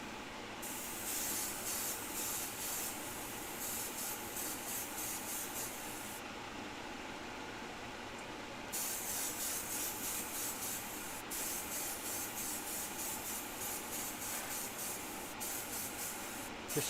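An airbrush sprays Timbertech paint with a steady, close hiss that sputters and spits unevenly, cutting out briefly mid-way before resuming in bursts.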